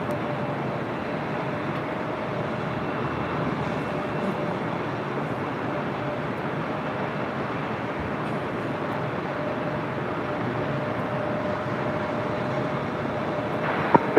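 A Delta jet takes off from runway 24 left at LAX, heard as a steady, even broadband roar that holds for the whole stretch at moderate distance, with no break or build.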